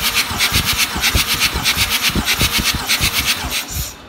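A Mercedes-Benz 612-981 turbodiesel engine cranks over steadily during a compression test, with a rapid, rhythmic churning pulse and no speech, then the sound cuts off at the end.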